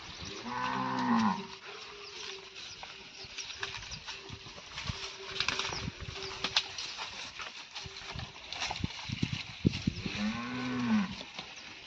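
A cow moos twice, a long low call at the start and another near the end, with rustling and shuffling farmyard noise in between.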